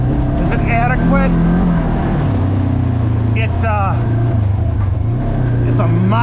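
Polaris RZR Trail 900, a 50-inch side-by-side with a 900 engine, riding a forest trail; its engine drones steadily and shifts pitch as it speeds up and slows, with someone talking over it.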